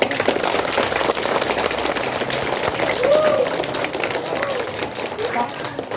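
Clapping and applause at an elementary school event honoring a student medalist, a dense crowd wash heard under ongoing talk and background voices.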